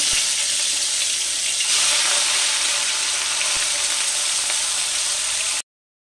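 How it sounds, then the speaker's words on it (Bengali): Katla fish pieces frying in hot mustard oil, a loud, steady, hissing sizzle that runs without a break and then cuts off abruptly near the end. "মাছগুলো এবার আমি একটা একটা করে এপিট ওপিট করে ভেজে নেব"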